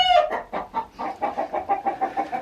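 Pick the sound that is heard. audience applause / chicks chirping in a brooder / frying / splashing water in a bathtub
chicks chirping in a brooder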